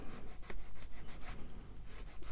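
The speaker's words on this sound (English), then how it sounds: "This is quite a coarse sanding stick, so I'll then go down to a finer grade." A coarse sanding stick rubs glue off an Eduard 1/144 scale MiG-21 SMT plastic model kit, giving quick rhythmic rasping strokes, close and fairly quiet, with no voices.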